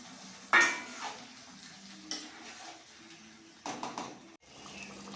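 Meat stirred in a pot with browned fried onions and potatoes, giving a few clattering metal spoon knocks against the pan over a faint low sizzle, close and intermittent.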